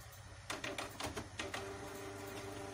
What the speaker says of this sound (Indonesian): Terus langkah yang pertama ini kita head clean.